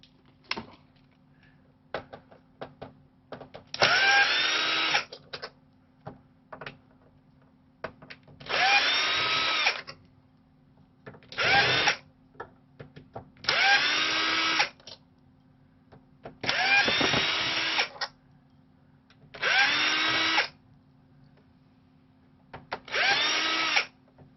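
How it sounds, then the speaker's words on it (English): Electric screwdriver backing screws out of a PlayStation 2 console, six loud whirring bursts of a few seconds each separated by quiet gaps with small clicks and handling sounds, close up and without talk. "So I've got a screwdriver, electric screwdriver I use."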